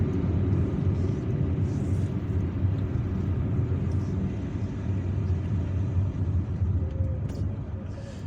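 Car driving through the streets of Algiers, a steady low engine and road rumble heard from inside the vehicle throughout, with faint passing noises and no clear talk.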